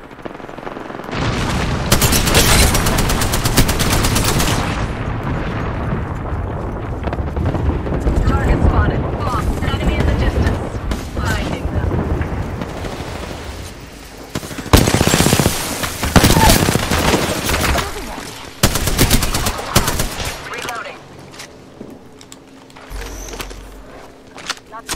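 Heavy exchanges of gunfire in Apex Legends, with long rapid bursts and booming impacts that come in waves over a busy soundscape of in-game effects and intermittent talk, fading near the end.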